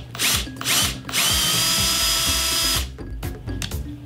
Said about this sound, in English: I'm gonna start with a pilot hole.